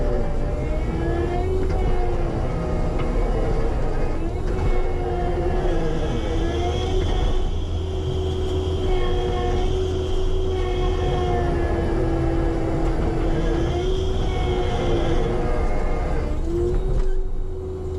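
A tractor-mounted food plot implement on an Illinois food plot, its teeth set in the ground and spinning, gives a steady loud engine drone with whining tones for the whole stretch, with no break.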